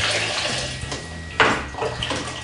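Sterilant liquid poured over a winemaking racking tube, a short splashy gurgle of liquid with a sharper burst in the middle, faint and close.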